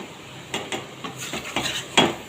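Taro leaves (kochu shak) lightly stirred in a pot, giving a scattered series of close clinks and scrapes of a utensil against the pot, ending in a louder knock, with no talking.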